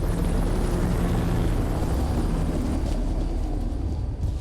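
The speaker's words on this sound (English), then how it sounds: "Sounds like Chopper's here." A helicopter arrives in a video game, a steady, loud broadband rotor and engine roar that fills the whole stretch without pause.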